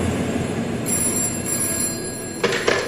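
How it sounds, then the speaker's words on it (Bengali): A telephone rings as a dramatic sound effect in a Bengali detective audio drama, sounding two short bursts of bright, electronic ringing over a low background hum, with no speech. "এমন সময় ফোনটা বেজে উঠল।"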